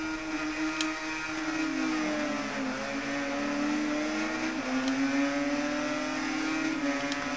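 A Yamaha motorcycle engine races in the video game Ride 3, droning steadily and loud throughout with rising and falling pitch as it shifts through gears, a continuous high-revving whine.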